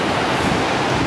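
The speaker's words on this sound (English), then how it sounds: "Got some nice little rapids here." Rushing river rapids on the Snake River below Lower Mesa Falls in Idaho, a loud, steady broadband roar of churning water close by with no voices.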